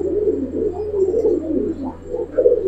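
Giribaz and coloured pigeons coo in low, rolling, overlapping calls that rise and fall continuously, close and fairly loud against a faint steady hum, with no talking.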